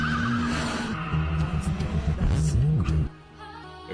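A Toyota AE86 in a mountain-pass street race from the Initial D film, engine droning loud with wavering pitch and tires skidding and squealing through a corner, ending abruptly after about three seconds into a quieter rumble.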